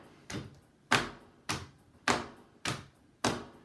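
Hands patting on knees in a classroom rhythm exercise, six soft thudding pats in a steady even pulse, each with a short decay, close and without talk.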